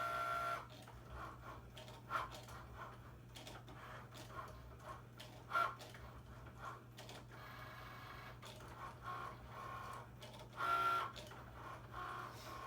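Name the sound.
Cricut Maker cutting machine drawing on a 12 by 12 mat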